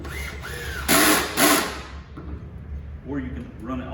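Cordless drill driving 2.5-inch screws into wood, struggling for power: two loud whirring bursts close together, bracketed by quieter motor whine and brief pauses.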